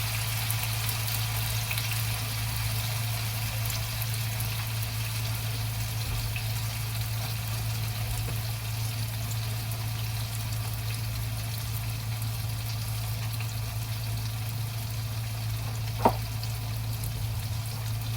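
Tofu frying in a pan after being flipped gives a steady, even sizzling hiss over a low hum, with a single small click near the end and no voices.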